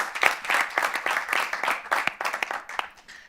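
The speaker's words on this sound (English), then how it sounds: "Round of applause for Ms. Nola." A live audience applauds a speaker at an event, a dense patter of many hands clapping that swells and then tapers off over a few seconds.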